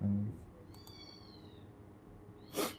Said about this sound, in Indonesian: Ngapa tuh kucing nangis?